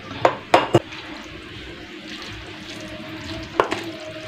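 Liquid is drained from canned fruit cocktail, a soft trickle and splash with a few sharp clinks near the start and another pair later, fairly quiet.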